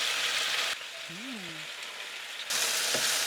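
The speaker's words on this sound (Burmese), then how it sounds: "ကြော်နေပါပြီ" Food fries in a pot for a pork stew, a loud crackling sizzle that cuts out briefly and returns, with a short tonal squeak in the quieter gap.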